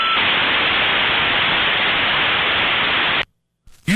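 A dial-up modem connecting over a phone line gives a loud, steady hiss of static for about three seconds, then cuts abruptly to near silence before a short new burst at the end.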